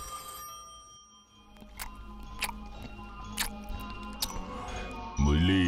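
A telephone rings with repeated short bursts of ringing spread across several seconds, moderately loud in a quiet indoor room, with a brief voice at the very end.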